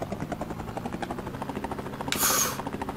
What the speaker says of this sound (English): it takes about 2 seconds for the helicopter to take off